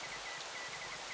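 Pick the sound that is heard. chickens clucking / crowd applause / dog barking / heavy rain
heavy rain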